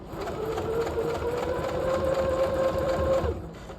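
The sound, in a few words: sewing machine stitching a jacket pocket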